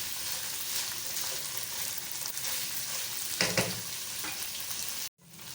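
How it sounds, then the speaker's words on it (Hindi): Khara masala qeema, minced meat with whole spices and bay leaves, sizzles steadily in a pan while being stirred, a close continuous frying hiss with a few louder scraping stirs near the end before a brief cut. "अब सिर्फ ये भून रहे हैं हम, और ये भूनते भूनते फिर तैयार हो जाएगा ये"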